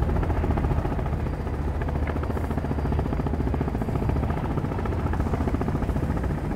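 A helicopter flies in the video game Sons of the Forest, producing a dense, steady rotor throb and engine roar that stays loud and close for the whole stretch.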